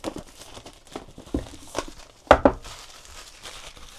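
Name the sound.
opening wrapped box packaging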